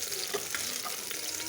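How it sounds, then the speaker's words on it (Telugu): Onions fry in hot oil in a pan, a steady bright sizzle with a few soft scrapes of a spoon stirring them, close and moderately loud, with no voices. "నూనె వేడి అయింది. ఉల్లిపాయలు వేసుకుంటున్నాను. ఒకసారి కలుపుకుందాం."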